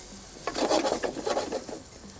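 Finely chopped garlic sizzles and is stirred in a pan, making a brief, soft scraping fry that swells for about a second and a half and then fades, with no one talking.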